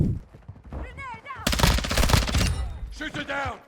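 Rapid bursts of automatic fire from a Vel 46 submachine gun in Modern Warfare 2 crack out close and loud, separated by short gaps, with a player's voice talking in between.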